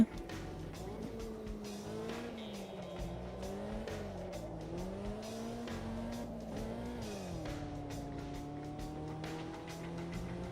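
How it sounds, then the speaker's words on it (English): Race cars in a sim racing video game lap steadily with a thin, whiny engine drone that rises and falls with gear changes, tires occasionally squealing, loud and continuous throughout. "These cars sound like hairdryers on low."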